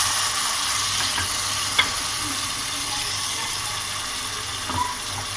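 Onion and spices fry in a pan after a splash of water is added, for a bean (faliya) dish. A steady, loud sizzle runs throughout with soft stirring scrapes and small clinks.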